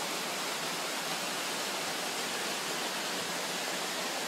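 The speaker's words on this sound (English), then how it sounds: "one of the very few water holes that actually has water still flowing into it" A steady, unbroken rush of water flowing into a rock water hole in Kakadu National Park, Australia, pours continuously, full and even, with no voices or other sounds.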